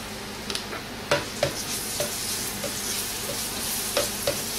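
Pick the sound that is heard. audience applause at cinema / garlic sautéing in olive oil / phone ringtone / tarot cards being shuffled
garlic sautéing in olive oil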